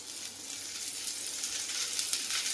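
Cooking oil sizzles and fries on a hot tava griddle, a steady bright crackle that holds evenly throughout, close and fairly soft.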